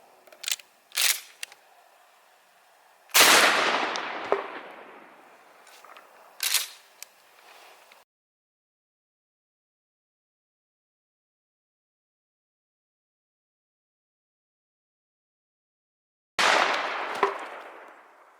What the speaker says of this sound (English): we'll once again start out with the 12 gauge slug